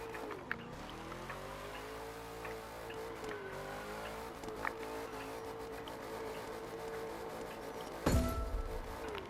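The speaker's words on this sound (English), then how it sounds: "I fucking hate drifting on this track." Racing game car drifting on a track, steady engine drone with wavering pitch through the turn and a sharp tire squeal or impact burst near the end, loud and continuous with no talk.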